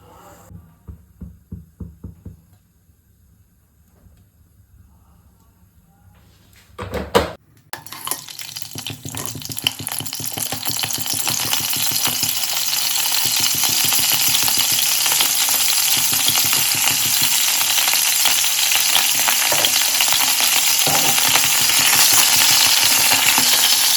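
Boiled crab dropped into a pan to fry, a few soft knocks first, then a sudden burst of loud sizzling that swells into a strong, steady roar of frying lasting to the end, no talking.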